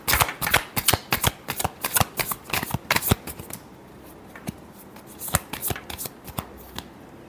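Tarot cards are shuffled in rapid crisp riffles close to the microphone, a dense burst of flicks followed by a short pause and then a few more scattered snaps.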